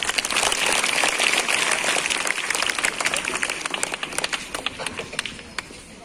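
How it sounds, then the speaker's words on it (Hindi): An audience at a school Hindi Day celebration gives loud, sustained applause welcoming a student play, dense clapping filling the room and slowly thinning toward the end. "जोरदार तालियों से स्वागत कीजिए।"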